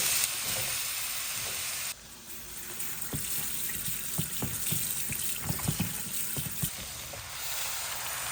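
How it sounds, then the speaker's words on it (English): Potatoes and ginger frying in a couple of tablespoons of hot oil in a pan for aloo methi sabji: a steady hiss that breaks into a run of close, crackling pops and spits partway through. "I'm gonna add the potatoes and ginger."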